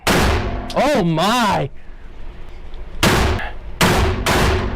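A Beretta 1301 shotgun fitted with a Salvo 12 suppressor fires two loud, sharp shots spaced apart, following a burst of excited exclamation from a nearby voice.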